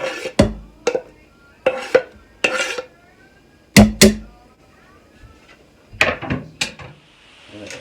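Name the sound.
grabbing a wooden spoon while onions cook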